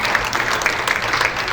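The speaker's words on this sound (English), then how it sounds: "Please, a huge round of applause for Mr. Jim." Audience applause welcoming a speaker to the stage at a 1 Million Cups startup community event, a steady dense patter of clapping filling the room throughout.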